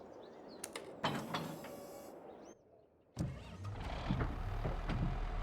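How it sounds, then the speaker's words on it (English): Tractor engine in a farming game, taken out in snow for a soil sampling job: whirring mechanical bursts, a brief near-silent lull, then a steady, loud engine rumble that keeps rising. "This tractor also sounds amazing."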